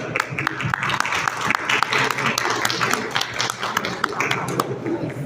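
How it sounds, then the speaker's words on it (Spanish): An audience at a presentation breaks into applause, with dense, close clapping sustained at an even level throughout. "Un aplauso."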